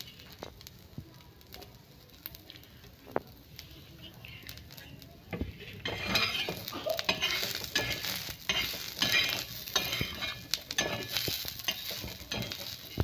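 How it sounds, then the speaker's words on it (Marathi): Ground masala paste roasting in a pan for a green urad bean sabzi, a soft stirring scrape and low crackle that grows louder and busier midway, with faint background noise throughout. "आता मी हे वाटण भाजून घेते।"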